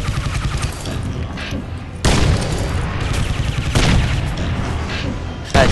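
Sustained heavy automatic gunfire from a minigun in the shooter game Crysis 2, loud and continuous with sharp bursts resuming after brief dips, no talk over it.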